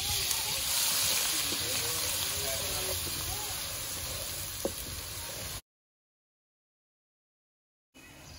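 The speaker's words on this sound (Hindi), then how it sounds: "तो जैसे कि जीरा फ्राई हो चुका है, तो अब मैं इसमें जल्दी से चॉप किया हुआ प्याज शामिल कर रही हूँ।" Steady close sizzle of chopped onion frying in a pan with cumin for Indian egg curry, a constant bright hiss with a faint clink near the middle before the sound cuts out, then resumes briefly.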